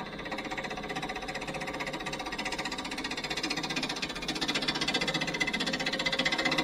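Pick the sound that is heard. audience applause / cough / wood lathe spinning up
wood lathe spinning up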